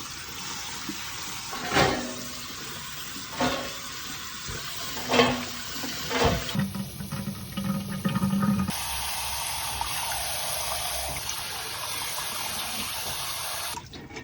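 Water runs and splashes from a kitchen tap during preparation of seasoned bean sprouts, with a few brief bursts early on, then a steady close stream that shifts in tone partway through.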